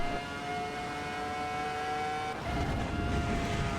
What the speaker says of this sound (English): Absolutely magnificent engine note on this car.